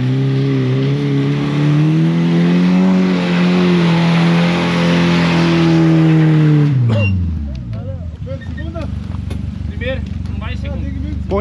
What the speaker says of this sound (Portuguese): Sai daí que a Kombi tá vindo!